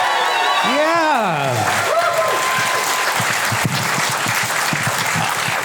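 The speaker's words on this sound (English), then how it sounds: "Another round of applause for Quinn Lamar." A comedy club audience claps steadily and loudly, a dense wash of applause with a few shouts, while a voice speaks over the start.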